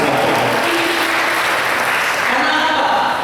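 Loud, dense applause from a church congregation at a Pentecostal Sunday service in Kupang, a thick wall of clapping that holds steady at close range throughout, with voices mixed in.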